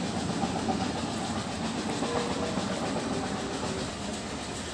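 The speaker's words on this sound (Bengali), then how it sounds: "পঞ্চগড়ে রেল স্টেশনের বিকালবেলা একটা সুন্দর পরিবেশ থাকে" A train at Panchagarh railway station on an afternoon gives a steady, close clattering rumble of rolling wagons that continues evenly throughout, with no voices.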